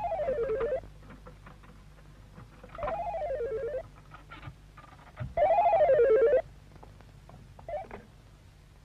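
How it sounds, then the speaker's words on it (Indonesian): A telephone rings in a 1990 Indonesian film scene, sounding as a warbling electronic trill in three long bursts separated by pauses, then a short faint chirp near the end, close and clear with no talking. "ada telepon"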